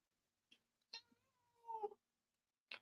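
A cat meows insistently for attention, several short separate calls with one longer drawn-out meow in the middle, close and fairly clear against a quiet room.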